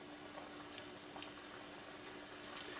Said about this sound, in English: we're gonna start frying them up. See how it goes. Let's just gently place them in.